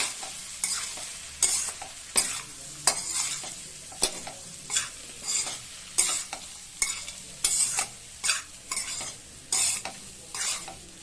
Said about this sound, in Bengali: এবার সব একসাথে একটু নাড়িয়ে নেব